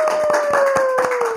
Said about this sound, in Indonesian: Kasih tepuk tangannya dulu dong buat Bro